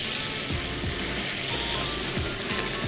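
Cajun salmon fillets sizzle steadily in a hot pan as they are flipped, a dense, constant frying hiss with soft low thumps from the turning, close and without voices.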